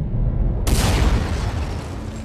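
A sudden loud blast erupts after a brief low rumble, then decays into a long roaring wash of noise.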